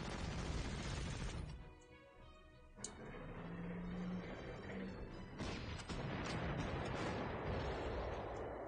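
Artillery and gunfire effects from the Panzer Corps strategy game play as units fire shots, a dense, loud barrage that dips briefly and then resumes, with a short tone partway through.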